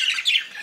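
Budgerigars squabble in an aviary, a burst of sharp, scratchy squawks and chirps close by, rising briefly in the middle before easing off.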